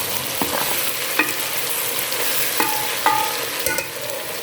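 Okra being fried in a pan of spiced masala, with a steady sizzle running underneath and a few sharp clicks of a spoon scraping and stirring at irregular intervals, close up and with no talking.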